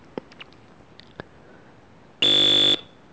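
A single loud, harsh electronic referee whistle from the football video game World Cup Carnival blasts for about half a second after a few faint clicks.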